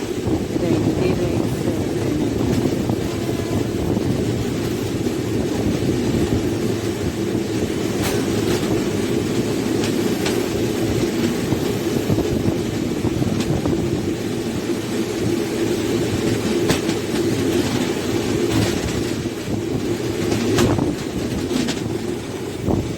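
Secunderabad to Ahmedabad express train 20967 running on rails past Fatehnagar station in Hyderabad: a loud, steady rumble and roar from inside the moving train, with occasional sharp clacks from the track joints and no talking.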